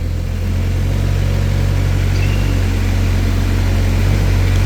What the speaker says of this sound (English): here's your Kubota engine coming to life